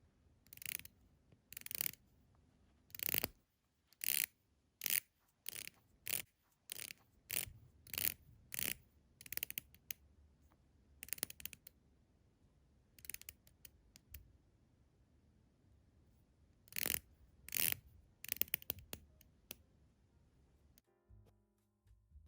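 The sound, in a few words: Seiko SRPE05 King Turtle diver watch ceramic bezel clicking as it rotates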